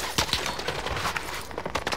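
Rapid gunfire from a Fortnite-style shooter match, several sharp bursts of shots at close and mid range scattered through the stretch, mixed with game sounds.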